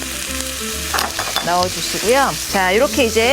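Potatoes stir-frying in a hot pan for japchae, a loud continuous sizzle with stirring scrapes, heard under a cook talking and music.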